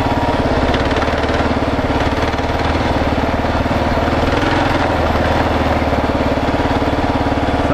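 A Kawasaki KLR 650 motorcycle labors in first gear through deep sand, its single-cylinder engine a loud, close, rapid thumping drone with steady pulsing and no voices over it.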